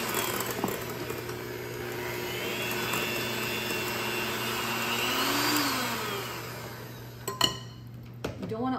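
A stand mixer briefly mixes sweet roll dough flavored with cherry extract, a steady whirring motor hum running close and even for most of the stretch before a few clinks and knocks at the end.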